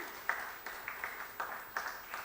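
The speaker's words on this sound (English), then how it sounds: "A round of applause for him, please, again." Scattered claps sound faintly from a conference audience, a few distinct hand claps spaced in a loose rhythm against a quiet room.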